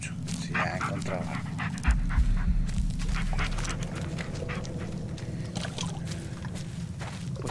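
A dog companion in the horror game Blair Witch pants and moves near a lake, its breathing heard under ambient game sounds with a low thud, while a person talks over it.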